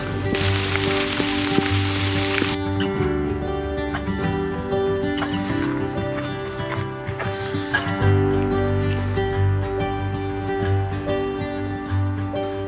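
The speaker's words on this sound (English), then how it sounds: "Hailing." Dense, steady patter of hail striking a surface nearby on the Continental Divide Trail, with a brief louder hiss at the start and another surge midway.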